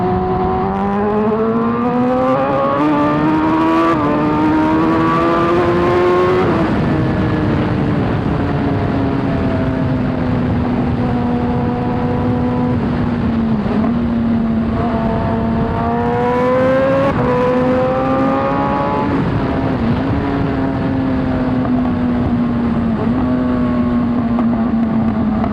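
A motorcycle engine revs up and down repeatedly while riding, its pitch climbing during acceleration and dropping between gear changes, loud and close over steady wind rush, with no talking.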